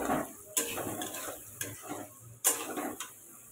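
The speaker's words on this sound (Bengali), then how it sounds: "বাঁধাকপিটা হালকা ভাজা।" Cabbage lightly frying in a pan for chicken chowmein, a low sizzle broken by several sharp scraping spatula strokes and clatters against the metal.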